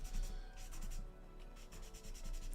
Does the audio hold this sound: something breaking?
no